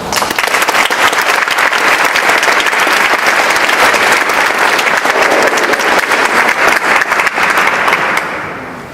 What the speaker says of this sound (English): I hope that you guys give him a round of applause for a warm welcome